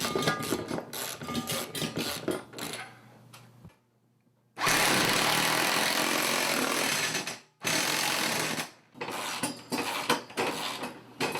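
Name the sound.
impact wrench driving bolt into ceiling stud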